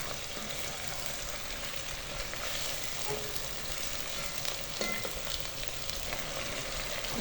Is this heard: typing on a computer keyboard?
no